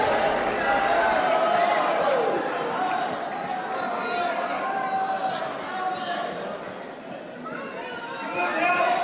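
A large crowd at a GOP event in Florida boos Chris Christie, a thick, sustained wall of voices that swells and dips but never stops for the whole stretch.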